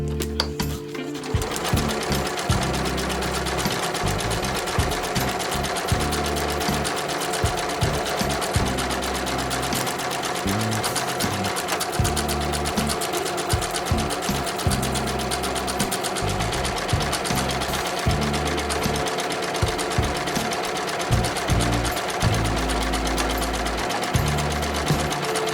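A home sewing machine stitches a buttonhole, running as a loud, steady, close-up whir for almost the whole stretch after a brief quiet start, with no talking.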